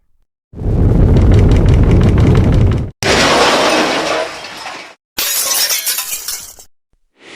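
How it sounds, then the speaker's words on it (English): Glass windows shatter and burst outward in three loud, violent crashes separated by brief gaps, with fragments raining down after each burst and no voices. "The windows exploded outward, sending glass raining down on the street below."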